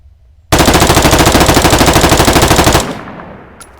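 Rapid automatic rifle fire from an HK416 in ARMA 3 with the RHS mod, a loud, close, unbroken burst of evenly spaced shots lasting about two seconds, then a short echoing tail.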